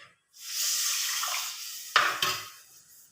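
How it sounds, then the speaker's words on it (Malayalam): Tamarind water pours into a pan of fish curry masala with chilli powder and salt, a steady liquid rush followed by two sharp clinks of the vessel against the pan. "ഇനി ഇതിലോട്ട് ഞാൻ ഈ പുളി"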